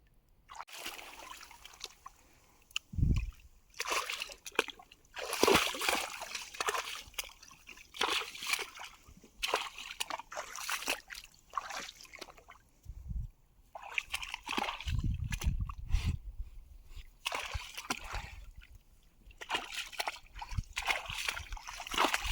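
Horse named Nagini walking through shallow water on a lead on a hot day, intermittent sloshes and splashes from hooves stepping close by, rising and falling in bursts with quiet gaps and occasional faint talk.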